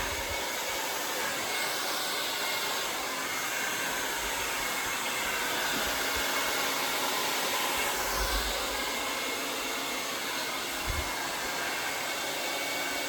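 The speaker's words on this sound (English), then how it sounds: "This part you want to blow dry straight up if you can" A hair dryer blows hair upward for volume, giving a steady, loud, close rushing roar that holds evenly throughout with faint low bumps underneath.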